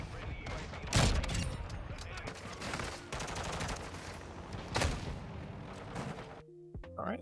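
Gunfire in Modern Warfare 2 from an Intervention sniper rifle among other weapons, with several sharp loud cracks at about one and five seconds over a busy background of distant shots and game noise.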